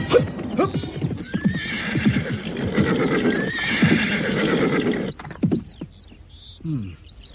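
Horses neigh several times and their hooves clip-clop in a steady rhythm, close and loud, with more distant whinnies trailing off near the end.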